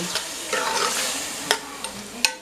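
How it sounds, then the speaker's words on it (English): Sautéed vegetables for a shrimp and sausage creole are stirred in a pot, soft scraping and gentle sizzling with a few sharp clinks of the spoon against the pot, close and alone. "Give it a little stir."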